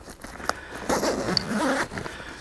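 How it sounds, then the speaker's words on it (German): A zipper being opened on a Solognac Kamo-BR Big Game 45/90 L hunting backpack, a close raspy pull with a couple of sharp ticks, running steadily for about two seconds. "wenn man den Reißverschluss öffnet"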